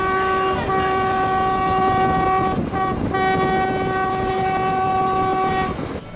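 A passenger train from Cusco toward Aguas Calientes and Machu Picchu, Peru, rumbles along steadily while its horn sounds a long sustained blast, breaking briefly midway before resuming over the continuous rolling noise.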